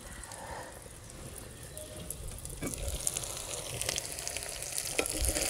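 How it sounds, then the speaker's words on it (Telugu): Chopped tomato cooks in a pan with a soft, steady sizzle and occasional stirring scrapes and clicks, quiet and close, gradually growing a little louder. "చిన్నగా తరుక్కున్న ఒక టమాటో మూత పెట్టుకొని రెండు నిమిషాలు మగ్గించుకోవాలి"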